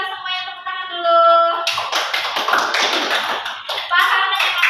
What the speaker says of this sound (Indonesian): oke, kita semuanya tepuk tangan dulu.